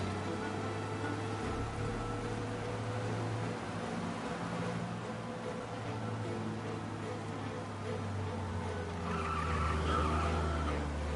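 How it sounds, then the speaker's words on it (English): A car races at speed through a police chase in the Mafia remake, engine droning steadily up close with tires skidding and squealing over a constant roar, a brief thump early on and rising tire noise toward the end. "We lose them by driving real fast and getting clear of them."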